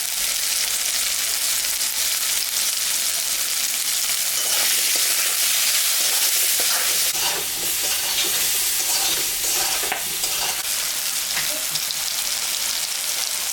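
Oil sizzles steadily as salt, turmeric and broken lentil dumplings fry and get stirred in a pan for spinach curry with rohu fish head; a continuous close hiss with occasional scraping, no talk.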